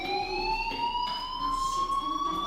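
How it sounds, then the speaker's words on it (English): A fire alarm rings in the video game Life is Strange, a steady electronic tone holding a few sustained pitches without pause, fairly loud and continuous with no talking over it. "do you hear that fire alarm? That means you should be outside."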